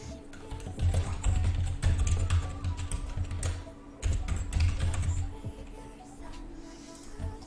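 Loud computer keyboard typing close to the microphone, coming in bursts of rapid clacks separated by short pauses, with a steady low hum underneath.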